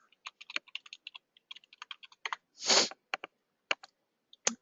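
Quick irregular clatter of a computer keyboard as a password is typed, close and crisp, with one longer scraping press midway and a few scattered final keystrokes in an otherwise quiet room.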